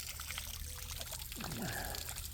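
A backyard pond fountain trickles and pours softly, a faint, close patter of running water with a few brief chirpy tones over it.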